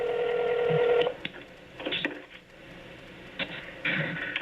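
Phone keypad tones sound while someone texts, a clear run of short, evenly spaced beeps up close, followed by faint handling clatter.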